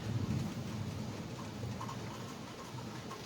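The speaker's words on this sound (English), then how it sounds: "Boy, it's just raining to beat the band out there." Heavy rain falls outside as a steady, dense hiss with a low rumbling undertone, moderately loud and unbroken throughout.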